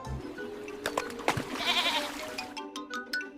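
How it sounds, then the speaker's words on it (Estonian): A goat bleats close by in a short, wavering cry over a brief stretch of ambient noise and light clatter. "Hei, kits, seisa seal paigal."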